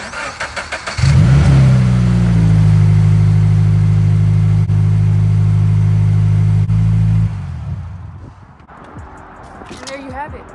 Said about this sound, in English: now the last thing you do is turn your car on to make sure it's all properly placed